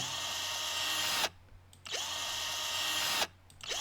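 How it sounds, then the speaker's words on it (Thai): A power drill driving screws tight in a toy bone-surgery play scene, two long whirring bursts each cut off abruptly, with a short quiet gap and a brief restart, loud and close. "เอาละใช้สว่านขันให้แน่น"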